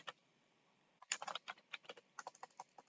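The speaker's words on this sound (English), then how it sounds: "let us type the name of the next student" Quiet, close typing on a computer keyboard: a few isolated keystrokes, a short pause, then a quick irregular burst of clicks as a name is entered, with no voices.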